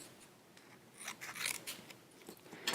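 Scissors trimming a small piece of craft paper, a few quiet crisp snips in quick uneven bursts, close and soft.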